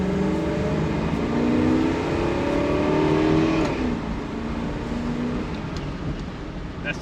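A 1965 Buick Riviera Grand Sport with a 425ci V8 and dual quads accelerates hard. Engine note climbs steadily through a long pull from inside the car, then eases off into a steady cruising rumble.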